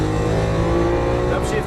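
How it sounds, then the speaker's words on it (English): A Lamborghini Aventador accelerates hard on a race track at Exotic Racing Las Vegas, its engine a loud, close, rising roar with steady harmonic whine, and a voice talks over it. "Looking down that straightaway, start squeezing the throttle, unwinding the wheel fast as you want."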